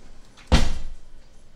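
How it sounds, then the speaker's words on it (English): A kitchen silverware drawer slides open in one quick, close, loud rolling scrape with a rattle, then fades out within about half a second. "I put the thyme in this silverware drawer"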